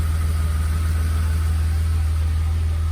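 A 1981 DeLorean DMC12 engine idles smoothly after fuel line replacement, a steady close low rumble with an even pulsing beat and no voices.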